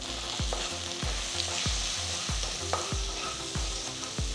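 Capsicum sautés in a pan with turmeric and salt, a continuous close sizzle punctuated by regular rhythmic scraping strokes of a spatula, about two per second, with no talking.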